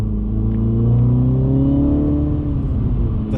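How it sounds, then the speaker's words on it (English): A car exhaust rumbles and revs up with a deep, rising engine tone, close and steady for a few seconds. "Love the sound of the exhaust."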